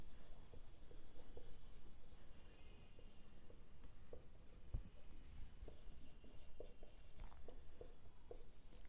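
Marker or chalk writing on a board during a trigonometry maths lesson, a steady scratchy scribbling with small taps over a constant room hiss, faint and without speech.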